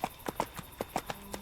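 Horse hooves clip-clopping on a path in the EverQuest 2 game, a steady run of distinct hoof strikes about every fifth of a second, close and clear with no talk.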